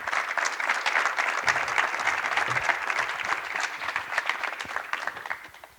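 A conference audience applauds steadily, dense clapping holding at a full level for several seconds before thinning slightly at the end, with no speech over it.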